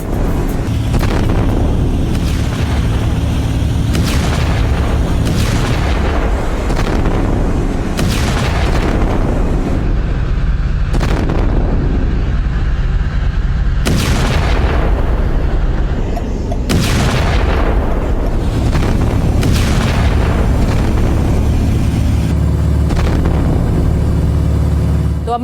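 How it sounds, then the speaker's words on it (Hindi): Explosions at an oil refinery in Texas, a loud continuous roar with repeated heavy booms and blasts rolling one after another over about twenty-five seconds. "अमेरिका की तेल रिफाइनरी में यह धमाका हुआ।"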